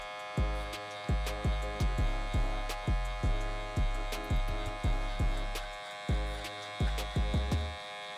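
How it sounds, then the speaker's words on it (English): Electric hair clipper with the lever fully closed buzzing during a mid fade haircut, a steady electric hum broken by repeated low pulsing strokes roughly once a second as it moves through hair, close and without talk. "I'm gonna start with clipper, lever fully closed."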